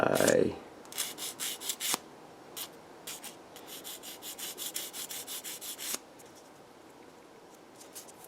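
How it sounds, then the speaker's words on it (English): Repeated quick rasping strokes of a sanding stick on a fingernail, in short bursts with brief pauses, fairly faint and close, no talking. "this sanding stick will take quite a bit off"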